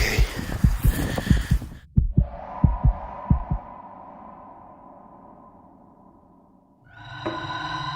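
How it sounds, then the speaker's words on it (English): Heartbeat-like low thumps pulse in a steady series while walking, several dull beats over a faint hum before a louder noisy stretch returns. "So odd to be able to hear your own heartbeat when you're walking."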